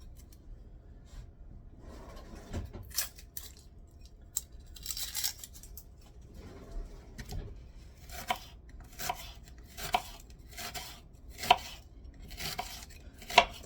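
Knife chopping one onion on a board for coleslaw, a run of crisp, fairly close chops that quickens into a steady rhythmic tapping toward the end, with no talk.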